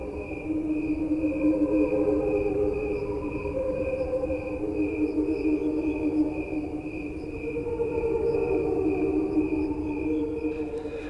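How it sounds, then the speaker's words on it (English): Real crickets slowed down electronically form an ethereal, choir-like drone with sustained layered tones and a steady pulsing texture, continuous and smooth throughout. "This angelic chorus sound you're hearing is actually the sound of real crickets slowed down"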